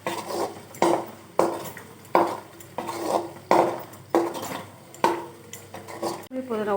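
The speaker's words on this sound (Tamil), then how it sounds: "நல்லா இந்த எண்ணெயெல்லாம் ஒன்றா கலக்கிற மாதிரி நம்ம கிண்டி ஊற்றிட்டே இருக்கணும்." Oil being stirred into a mint and coriander chutney in a pan, with repeated scraping and clinking of a spoon against the metal in a steady rhythm of about seven strokes, close and clear.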